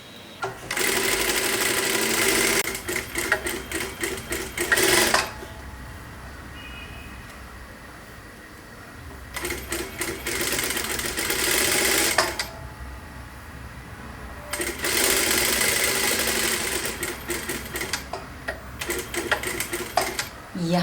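A sewing machine stitches a four dart blouse in three long, loud bursts of rapid, even whirring, separated by quieter stretches where someone talks.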